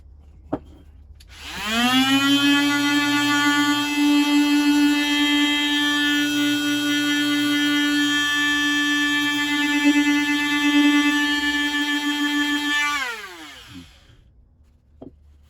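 A power sander works on a vintage hatchet during restoration, a steady, loud whine with a strong buzzing tone that spins up, runs for about eleven seconds, then winds down.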